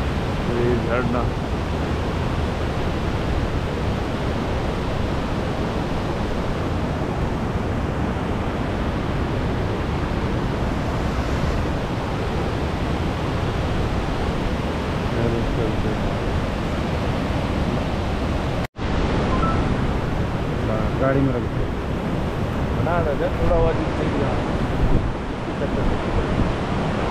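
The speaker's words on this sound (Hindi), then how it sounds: "झरना" A natural waterfall at the confluence of the Spiti and Sutlej rivers in Kinnaur Valley, a steady loud rush of falling water mixed with wind noise, briefly cut near the end, with voices over it.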